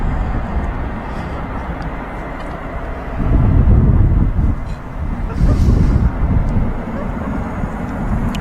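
An Air France airliner takes off from the runway at Manchester Airport with a steady, broad roar that swells as it rotates. A voice talks over the engines.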